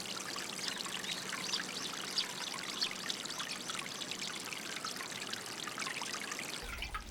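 Water flowing steadily through a channel in a Japanese satoyama village, a continuous bright trickling and pouring babble, close and unbroken, with no voices.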